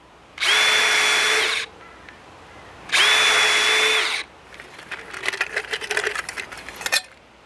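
A power drill pre-drills holes in wood for a budget shed build: two steady whining runs of about a second each, then a rougher, crackling burst as the bit bores through the timber.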